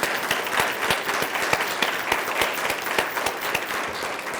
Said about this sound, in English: can we have a round of applause for all of these finalists?